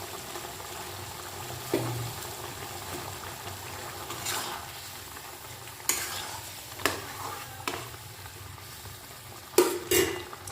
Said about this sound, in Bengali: এই টমেটোটাকে আমি এর মধ্যে দিয়ে দেবো